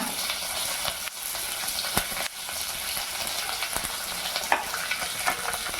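Urad dal, dried red chillies, onion, curry leaves and garlic frying in hot oil for a punugulu chutney: a steady, dense sizzle throughout, close and fairly loud, with occasional clicks of stirring against the pan.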